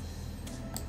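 A few quick, light key clicks on a computer keyboard sound close by against a steady background hum, with no talking.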